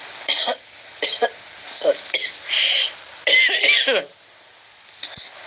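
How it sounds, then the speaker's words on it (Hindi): Several harsh coughs and throat-clearing bursts in short clusters from a person who is unwell, close to the microphone, with brief pauses between them. "थोड़ा तबीयत ठीक नहीं है, इसकी वजह से मेरे खांसी आ रही है"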